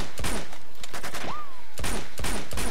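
Gunfire in Uncharted 2: sharp rifle bursts crack in quick clusters, pause briefly around a single whooshing sweep, then resume as another rapid volley, loud and close.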